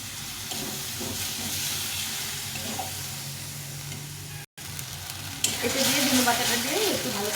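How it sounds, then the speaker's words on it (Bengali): Ground coriander leaf paste fries and sizzles in oiled spices for green rohu fish curry, with steady hissing and stirring scrapes, a brief dropout mid-clip, then louder steam and rasping as stirring picks up. "ধনে পাতাটা দিয়ে দিব দিয়ে এটাকে ভালো করে কষিয়ে দেবো"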